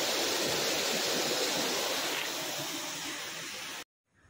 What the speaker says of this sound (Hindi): गाइज ये जोग वाटरफॉल है